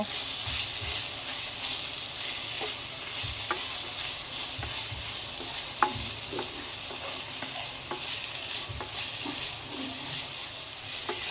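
Potatoes and mutton fat frying in a pan with spices, a continuous crackling sizzle under repeated scraping and clinking stir strokes at an even pace, close and moderately loud.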